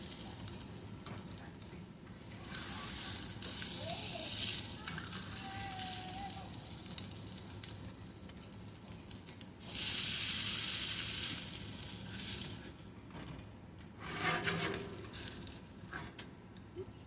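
Salmon and tuna patties sizzle steadily as they brown and crisp in a pan, a continuous close frying hiss with louder bursts partway through.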